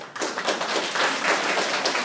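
Indoor audience applause for the ladies at a library event, a dense, steady wash of many hands clapping close by that starts after a brief pause and holds evenly to the end.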